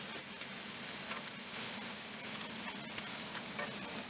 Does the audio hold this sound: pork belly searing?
yes